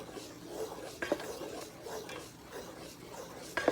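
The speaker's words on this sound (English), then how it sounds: "So let's mix this good and then see if we need to add more." Spoon scraping and clinking against a pot while green banana porridge sweetened with condensed milk is stirred, soft irregular scrapes with a few sharper knocks near the start and end.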